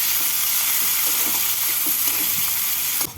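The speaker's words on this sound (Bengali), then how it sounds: "পেঁয়াজটাকে হালকা করে ভেজে নেব" Chopped onion frying in oil for a rui fish curry with ridge gourd and potato, giving a steady, dense close sizzle throughout with faint stirring scrapes.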